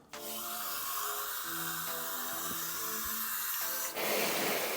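Water sprayer rinsing a car wheel, brake caliper and brake disc, a continuous loud hissing jet with a faint whine, shifting in tone as the spray moves, then a harsher burst near the end.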